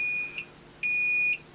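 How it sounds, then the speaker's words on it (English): An Akatherm CB315-U electrofusion unit beeping at power-on: two clear, evenly spaced electronic tones, each about half a second long, heard close and alone. "Beeping"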